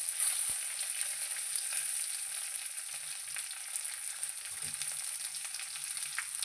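Curry leaves and cut red chillies frying in hot oil for a Kerala buttermilk curry, a steady bright crackling sizzle throughout, with a few soft clinks of stirring, close and uninterrupted by talk.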